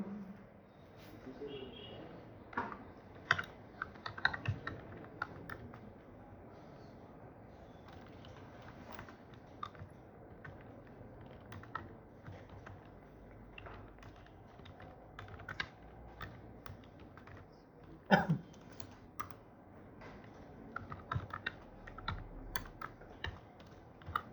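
Typing on a computer keyboard while writing Python code, scattered bursts of soft key clicks with pauses between them, quiet and close throughout.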